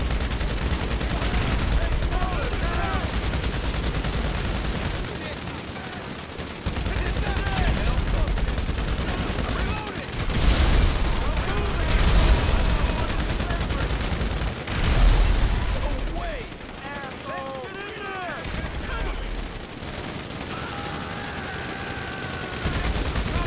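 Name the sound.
gunfire in the video game GTA Online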